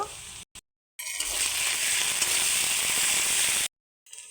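Onions sizzle in hot oil in a wok with ginger-garlic paste for a chicken and potato korma, a steady bright hiss lasting a few seconds between short silent gaps, close and fairly loud with no talking.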